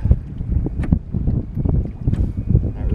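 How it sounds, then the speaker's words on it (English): Wind gusts buffet the microphone on a canoe while fishing for northern pike on a lake, a low rumbling roar with faint water and hull knocks, continuous and close, no speech. "The wind seems like it's maybe picked up a little"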